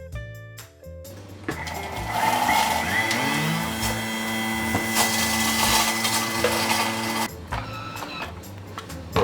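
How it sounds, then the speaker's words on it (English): A blender whirring as it blends set coconut gel, a loud, steady motor drone with a shifting pitch that starts and stops abruptly. "we're going to blend up the coconut gel"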